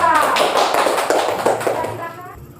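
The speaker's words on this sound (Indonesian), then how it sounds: "kita berikan tepuk tangan kepada kelompok 2" A classroom of students claps for a group after its presentation, a brief, loud burst of rapid clapping.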